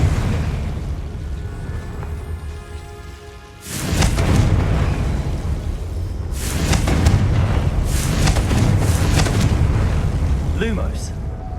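Confringo fire spell explosions in the Hogwarts Legacy video game: after a quieter stretch, several loud, close booming blasts burst out one after another, with rumbling carrying on between them.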